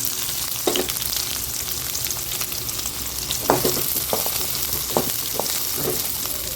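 Onions hit a pan of frying garlic and dried chillies, with a continuous close sizzle broken by several sharp stirring clacks and scrapes, no voices.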